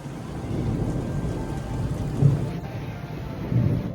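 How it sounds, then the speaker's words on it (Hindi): Steady rain pours down with a low rumble of thunder rolling underneath, swelling a couple of times without sharp cracks. "कितनी तेज से बादल गरज रहा है"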